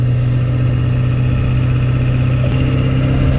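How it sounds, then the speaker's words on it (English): A Ford diesel truck running on used ATF fluid idles with its air conditioning blasting, producing a steady, close, low engine drone with a constant fan hiss over it and no talking. "just absolutely cranking"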